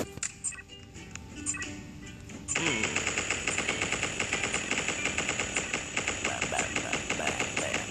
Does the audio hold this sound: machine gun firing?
yes